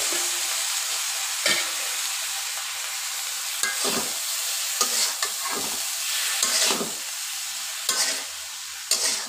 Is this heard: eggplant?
yes